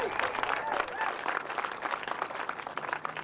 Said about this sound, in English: So we can applaud her.